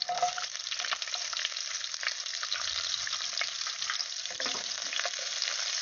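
Sliced onion frying gently over low heat in oil with black cumin, giving a soft continuous crackle and sizzle with occasional stirring clinks, close and even, no one speaking.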